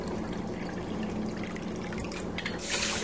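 Two cups of water pour steadily into a pot of rice, a close, continuous splashing trickle that grows a little louder toward the end.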